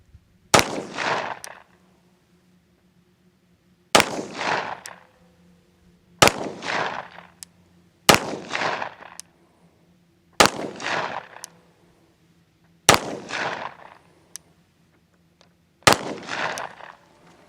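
Seven sharp pistol shots ring out one at a time from a freshly oiled handgun during budget target practice, each loud crack spaced a couple of seconds apart with a short decay and a low steady hum between them.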